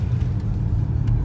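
A 2021 Ford Mustang Mach-E in Engage mode on city streets, a brief steady low cabin rumble with faint ticks, moderately quiet.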